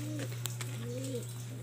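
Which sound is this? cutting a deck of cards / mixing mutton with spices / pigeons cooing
pigeons cooing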